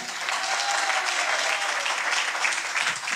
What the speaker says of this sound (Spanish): Aplausos para Gabriel Boric Funk.